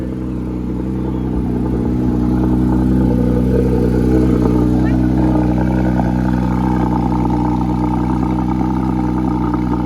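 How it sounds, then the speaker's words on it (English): A car engine burbles at idle at a Cars and Coffee meet at Larz Anderson Auto Museum, making a steady, close, low rumble with a slight lumpy pulse and a faint mechanical clatter. Crowd murmur sits in the background. "It's burbling at idle."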